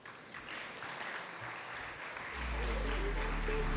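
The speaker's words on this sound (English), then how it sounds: "Let's welcome them all with a huge round of applause." An audience at the AstitvA 2023 inauguration event applauds a G20-themed group with a steady wash of clapping, joined partway through by a low, constant hum.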